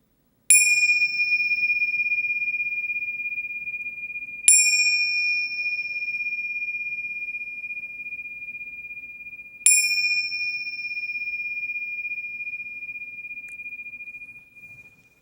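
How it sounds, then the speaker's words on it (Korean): A meditation bell is struck three times, each strike ringing out clear and sustained with a long, slowly fading tone before the next. The strikes are roughly four to five seconds apart, in an otherwise quiet room. "자, 이제 제가 종을 3번 칠 건데 눈을 감으셨다가 종 3번 치는 소리가 완전히 끝나면 눈을 천천히 떠보세요"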